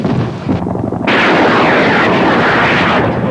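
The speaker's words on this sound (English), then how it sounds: "Soviet helicopters are shooting up the area!" A loud, roaring burst of gunfire from attacking Soviet helicopters and heavy engine rumble, dense and continuous, with a brief dip before the barrage swells again.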